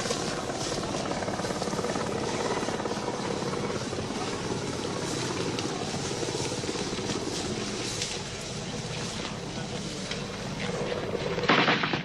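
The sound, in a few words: helicopter in archival Rhodesian war footage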